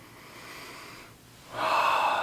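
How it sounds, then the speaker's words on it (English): A single deep breath during meditation, a soft inhale followed by a louder, breathy exhale close to the microphone, with no talking. "So take a deep breath."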